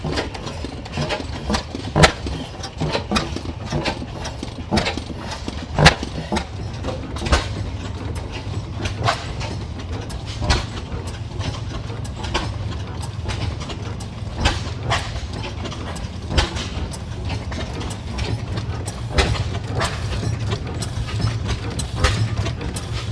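An antique oil field engine runs at a gas engine and tractor show in Portland, Indiana, giving a steady low rhythmic chugging with regular sharp clanks throughout, heard from nearby.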